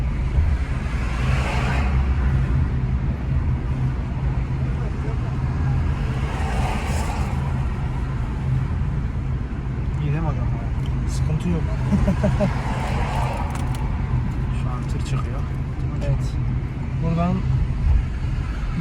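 A car drives along a road during a driving exam, its engine and tyre rumble a steady low drone throughout, with people talking over it.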